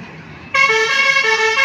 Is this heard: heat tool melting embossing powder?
no